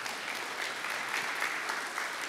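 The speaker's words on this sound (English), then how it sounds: "one more big hand of applause for all of our lightning talks" Conference audience applauding lightning talks at a Cassandra summit, a steady dense wash of clapping that holds at an even level throughout, with no voices over it.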